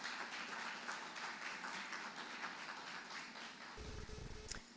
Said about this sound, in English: could I have another round of applause